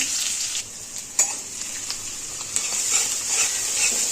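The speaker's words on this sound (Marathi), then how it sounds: "आपण आता मिरची टाकून घेऊया तुपामध्ये छान" Green chillies fry in ghee with a bright, crackling sizzle, punctuated by a few sharp pops and spoon taps, heard close with no talking.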